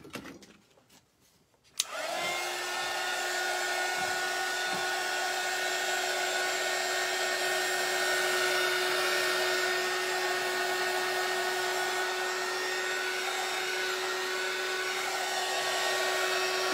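A hair dryer switches on after a few faint handling sounds and then blows loud and steady for the rest of the time, drying a coat of paint on an upside-down Dollar Tree pizza pan.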